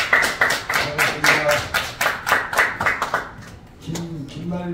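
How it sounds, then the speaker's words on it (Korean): An audience at a graduation ceremony claps in a strong, even rhythm, the beats loud and close, then the clapping fades and a voice begins speaking. "김사님께 박수 한번"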